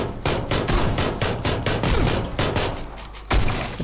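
Pistol and shotgun gunfire in the video game PUBG, a rapid run of sharp close shots with punchy low thumps, including one heavier blast near the end.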